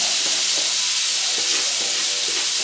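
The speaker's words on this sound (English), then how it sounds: "Now we're gonna let it sear, give it a nice sear on the back side for about 2 minutes" Blackened salmon sears on a grill with a steady, loud broadband sizzle and hiss, broken by a few faint clicks and light scraping, with no talking.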